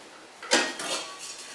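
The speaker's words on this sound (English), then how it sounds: "that's our new pan, and this is our old pan" Ninja Foodi XL pressure cooker pans being handled: after a quiet moment, a sharp metallic clank sounds, followed by a few lighter rattling knocks of metal pans against each other, close and fairly loud, with no voices.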